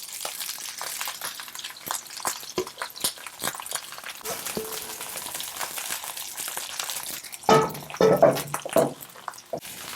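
Mung bean seafood pancake batter with scallions frying in a generous pool of oil, a steady close crackle and light sizzle with small pops and scraping, growing louder and busier near the end.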